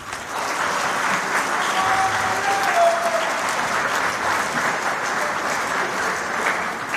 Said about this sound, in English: then we can give them a round of applause